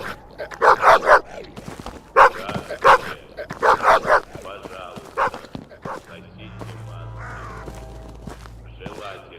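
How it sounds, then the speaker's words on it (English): A dog barks in loud clustered bursts, several sharp barks in quick succession, while someone talks over and between them; later a steady low hum fills the background. "Look at this idiotic dog."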